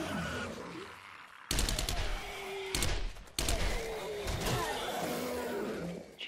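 Bursts of loud machine gun fire in the 7 Days to Die video game, a few sudden rapid volleys over game ambience and scattered thumps, with speech in between.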